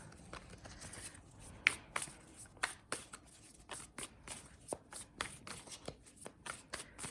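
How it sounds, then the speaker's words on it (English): Tarot cards are shuffled by hand in a quiet room, a rapid series of soft crisp riffles and flicks repeating about every half second, close and faint, with no voices. "Nobody wants to watch like a ton of shuffling here."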